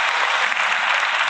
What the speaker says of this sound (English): Just give her a round of applause just early